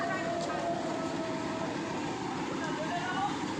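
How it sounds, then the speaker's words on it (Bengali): The Mahananda train rolls past at Poradah station, a continuous close rumble of wheels and carriages with a steady metallic drone, with faint voices mixed into the background. "একটা মহানন্দের ট্রেন"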